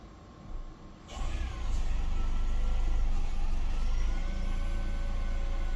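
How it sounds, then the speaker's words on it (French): A hybrid car's petrol engine turns over and catches, rising from a quiet electric hum to a steady, close idle drone that holds evenly for several seconds. "Je vais appuyer sur l'accélérateur pour que le moteur thermique démarre."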